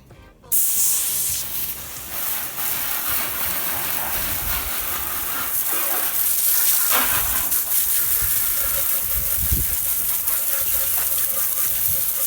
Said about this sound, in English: Let's hose it down now.